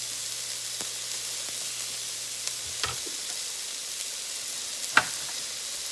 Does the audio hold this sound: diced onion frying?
yes